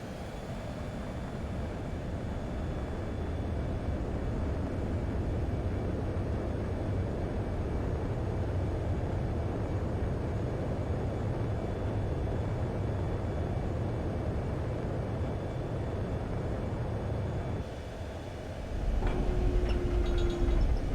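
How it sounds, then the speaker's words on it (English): A fighter jet in the combat flight game Ace Combat 7 spools up for takeoff, a steady, loud jet roar that holds throughout and surges deeper near the end, with no talking. "Spare 15, you are cleared for takeoff."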